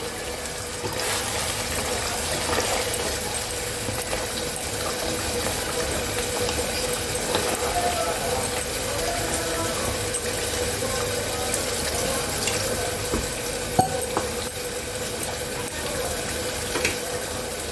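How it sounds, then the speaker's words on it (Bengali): Water pours steadily into a pot of simmering mutton korma, a continuous splashing, gurgling rush that stays close and even for the whole stretch, with a faint clink near the end. "এবার আমি এতে জল দিয়ে দিচ্ছি"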